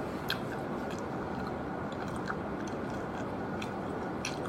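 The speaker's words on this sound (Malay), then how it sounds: "So dia ambil masa untuk mengunyah." Chewing on a slice of Pizza Hut black volcano pizza in Malaysia: close, wet, squishy chewing and soft biting sounds recur steadily against a dense background hiss, with no talk.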